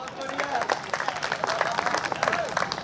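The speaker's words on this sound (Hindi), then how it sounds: "जिनको बात समझ में आ गई वो तालियां बजा सकते हैं" Audience applause at a Hindi kavi sammelan poetry recital during a Nav Durga festival, a steady crowd clapping with voices and cheers mixed in throughout.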